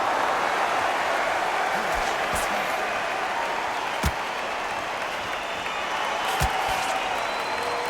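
Crowd at a boxing match in the Undisputed video game, a steady dense roar of spectators with faint cheering, a few sharp knocks cutting through, continuous throughout with some voices underneath.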